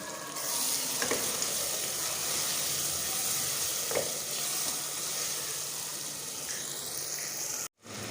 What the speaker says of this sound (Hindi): साबित गरम मसाला जिसमें दालचीनी और बादियान का फूल भी है, वो डाल देंगे। और अब मसाले को अच्छे से भून लेंगे।